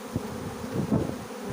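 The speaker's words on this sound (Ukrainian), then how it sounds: "Оце купа бджіл. Такі раї мені подобається збирати." A swarm of honeybees at an apiary hums in a dense, continuous buzz close by, with no talking.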